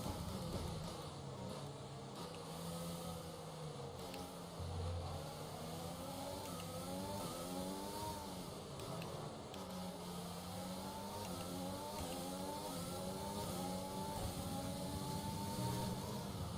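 A Formula 1 car in F1 2020 screams through its gears on track, a high engine whine rising and falling repeatedly as it accelerates and brakes, heard fairly faintly and without talk.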